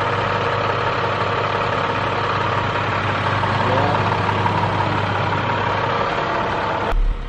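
A payloader's engine idles with a steady low rumble and mid-range drone, close and fairly loud, ending with a brief clunk.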